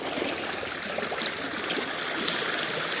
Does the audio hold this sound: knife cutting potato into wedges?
no